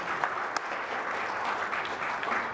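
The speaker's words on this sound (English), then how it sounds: "You deserve the applause." Steady applause from an audience at a spiritual gathering, dense clapping sustained throughout at even loudness with no talk over it.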